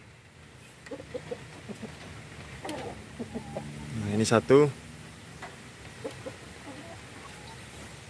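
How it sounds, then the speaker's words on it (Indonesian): A somewhat wild rooster gives a short, clucking call amid scattered chicken sounds at a breeding coop, while someone speaks nearby in a calm outdoor setting. "Ini ada satu ayam jantannya agak liar"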